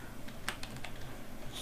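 A few soft, faint computer keyboard keystrokes and clicks land irregularly over low room noise, close by, with no voice.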